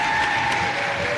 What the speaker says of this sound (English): Can we get a huge round of applause for Julee Wilson?